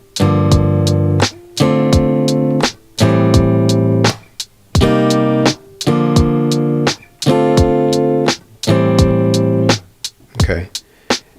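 An acoustic guitar plays rhythmic minor seventh chord voicings for a song. Seven loud strummed chords ring out in a repeating pattern with brief muted gaps and scratchy string-damping strokes between them.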